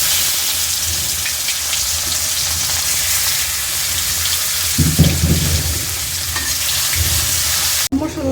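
Beef being fried in a pan after potatoes, a loud steady sizzle close by with brief stirring bursts midway and no talk.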